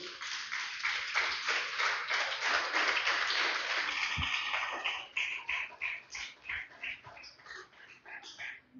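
A congregation applauds during a church sermon, heard faint and muffled. The clapping is dense at first, then thins after about five seconds into scattered, separate claps.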